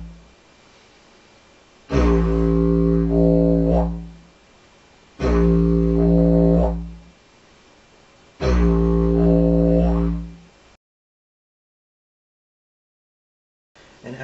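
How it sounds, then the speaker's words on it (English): A didgeridoo played as a drone with air squeezed out from the cheeks: three long, loud, buzzing drones, each lasting about two seconds, with quiet gaps between them and no talking. "You have to make the drone sound first and use all your lung capacity, and then squeeze out with your cheeks"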